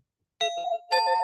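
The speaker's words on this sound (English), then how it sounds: "See the doorbell be ringing and we gotta let them in." A two-tone doorbell chime rings twice in quick succession, clear and close, with silence before the first strike.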